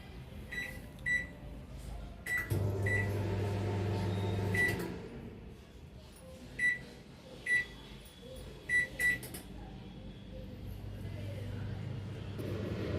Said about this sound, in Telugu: ఓవెన్ని ప్రీ హీట్ చేసుకుందాం.